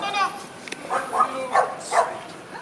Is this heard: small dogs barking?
yes